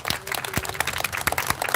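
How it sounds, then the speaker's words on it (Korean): Steady applause from a crowd at an outdoor workers' rally, dense overlapping hand claps with sharp individual slaps standing out, continuous and fairly loud without speech. "큰 격려 박수 부탁드리겠습니다."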